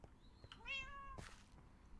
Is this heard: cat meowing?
yes